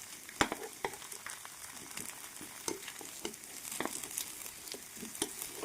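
Potato half-cooking in a hot pan gives a steady, fairly quiet sizzle and frying crackle, with scattered sharp pops and stirring scrapes all the way through.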